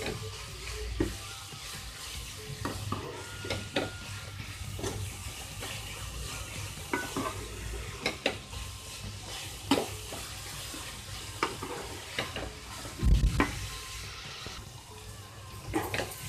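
Beetroot sabzi fries in a pan while a spoon stirs it, making repeated knocks and scrapes over a low, steady sizzle. A heavier thud of clatter comes near the end.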